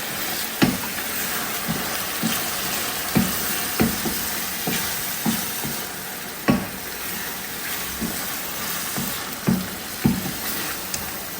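Blended pepper being stirred into sizzling Ghanaian shito stew for waakye, a steady frying hiss broken by regular spoon scrapes and knocks against the pot, close and without speech.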